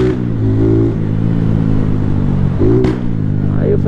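A motorcycle with a loud exhaust revs up close, its engine note rising and dropping in a few sharp bursts between stretches of steady running.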